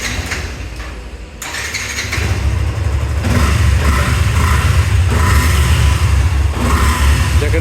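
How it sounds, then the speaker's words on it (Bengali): A used showroom-condition motorcycle at a bike dealership in Bogura fires up after a brief cranking burst, then settles into a loud, steady, close engine run with a low throbbing rumble. "বাইকটি আমি স্টার্ট করে আপনাদেরকে এখন দেখাবো।"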